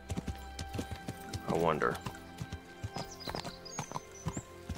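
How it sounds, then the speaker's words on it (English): A horse clip-clops at a walk in the video game Kingdom Come: Deliverance, hooves knocking in a steady moderate rhythm with a brief whinny partway through and someone speaking briefly over it. "I'm just going to park the horse over here for the time being."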